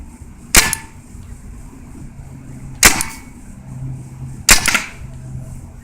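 A US Army Alpha Black paintball marker fires three sharp, loud pneumatic pops in semi-automatic mode, spaced about two seconds apart over a quiet background hum.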